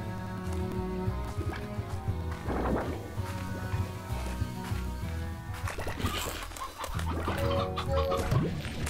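Chickens cluck in the video game Slime Rancher, several short bird calls repeating over a steady bed of game music, with no talking.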